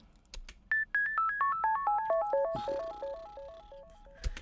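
A run of bright electric piano notes stepping downward, each echoed in quick repeating delays that bounce and fade, over a soft background.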